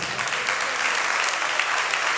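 Steady, dense applause from a church congregation during a Spanish-language worship service, continuous and full throughout with no lulls.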